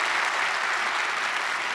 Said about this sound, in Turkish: Lütfen alkışlayın.